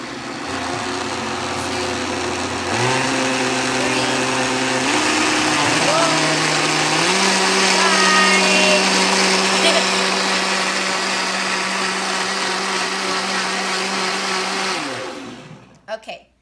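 A countertop blender runs loud and steady for about twelve seconds, its motor pitch stepping up through several speed changes before winding down and stopping, with a couple of knocks at the end.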